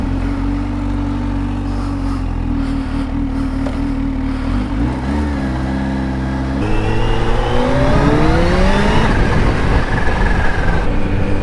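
Kawasaki Z H2 supercharged naked motorcycle riding off: a deep idle rumble, a few blips, then a loud engine note that climbs as it pulls away, close and continuous with no talk.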